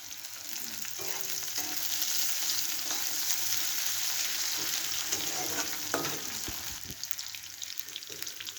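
Green and red slit chillies sizzle and fry with reddened onions in hot oil, a steady dense crackle with occasional stirring scrapes, close and continuous throughout.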